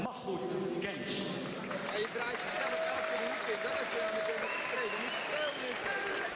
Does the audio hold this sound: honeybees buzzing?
no